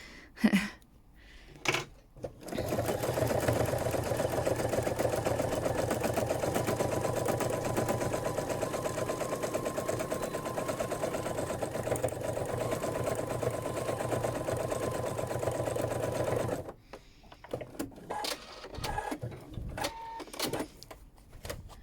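An embroidery machine stitches around butterfly wings on a spring quilt block, a long steady mechanical whirr lasting about fourteen seconds, close and even, framed by quieter clicks and handling before and after.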